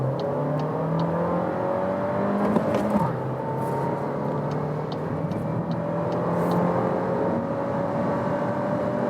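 A Volkswagen Golf 8 R-Line engine revs up steadily in sports mode, accelerating from second gear at about 40 km/h, with rising whine and a brief shift midway, heard from inside the cabin.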